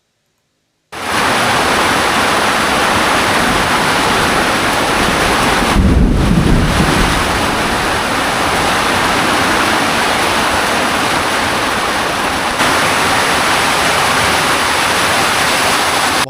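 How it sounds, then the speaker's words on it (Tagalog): Typhoon wind and rain roar as a loud, continuous wash of noise, with a heavier gust or downpour swell partway through and no voices. "Mukhang inaabot na kayo ng bagyo ah."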